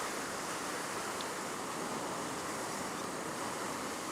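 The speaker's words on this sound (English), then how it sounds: "I can see more and more waves coming in" Ocean waves coming in on a shore near a cave make a continuous broad roar of surf, steady and loud without distinct breaks, with no voices.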